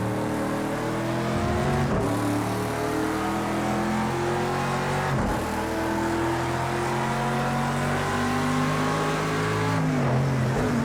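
Slot car fitted with a large midge motor racing around a track, a steady continuous whine rising and falling in pitch as it speeds through the layout and a chicane, loud and close.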